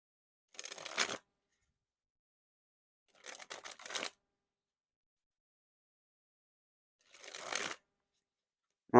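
Sharks-branded playing cards dribbled from hand to table in three separate quick riffling bursts, each a crisp fluttering rattle lasting about half a second, with silence between them.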